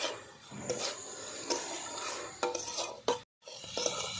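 Red lentils are stir-fried with spices in a pan, with repeated scraping and stirring strokes over a gentle sizzle, a brief pause of near silence, then stirring resumes.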